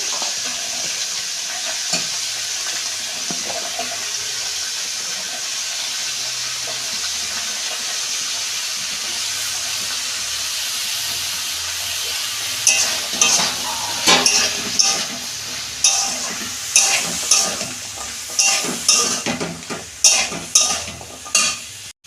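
Vegetables and spring onions stir-frying for a prawn dish, first a steady low sizzle, then a busy stretch of sharp scraping spatula strokes against the pan over continuous frying hiss.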